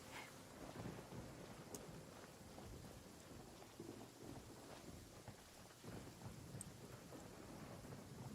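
Continuous rain and rolling thunder from a Genshin Impact thunderstorm, a dense, even wash of downpour with faint crackles and low rumbles throughout, no speech.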